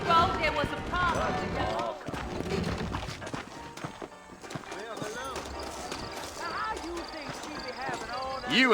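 Saddled horses clip-clop steadily along a dusty New Austin frontier town in Red Dead Redemption, hooves thudding in an even rhythm beneath music and someone talking throughout.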